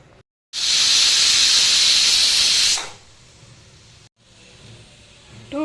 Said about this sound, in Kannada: ಟೂ ವಿಸಿಲ್ ಬಂದೈತೆ. ಈಗ ಸ್ಟವ್ ಆಫ್ ಮಾಡಿ.